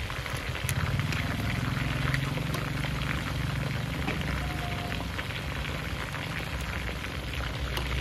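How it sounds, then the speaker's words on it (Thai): Steady crackling sizzle of chicken wings frying in hot oil in a pan over a charcoal stove, loud and close, continuous throughout with a low bubbling rumble underneath. "เอากระทะไปตั้งเอาน้ำมันใส่สักพักนึงเฮาก็เอาไก่ลงไปทอดเลยค่ะ"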